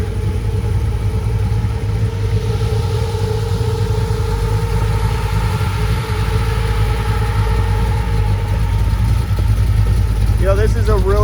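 A restored 1967 Chevrolet Nova with a 355 V8 and automatic overdrive idles close by, a steady low rumble with an even exhaust burble running throughout, joined briefly by a faint high chirp near the end.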